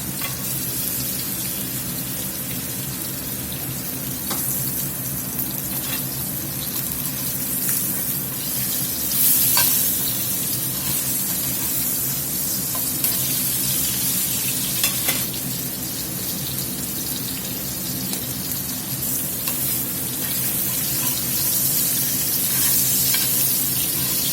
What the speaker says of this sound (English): I'm going to put this fat cap right up next to the side of the skillet so we can get that fat rendered out of there.